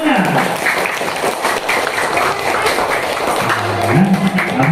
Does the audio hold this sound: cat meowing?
no